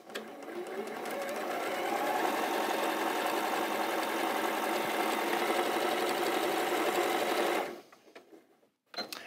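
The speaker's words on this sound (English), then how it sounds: "just going straight down that seam, letting the machine deal with the bias itself" A sewing machine runs steadily for about seven and a half seconds, stitching straight down a quilt block seam, a loud continuous mechanical whir that stops abruptly, followed by a brief quiet rustle.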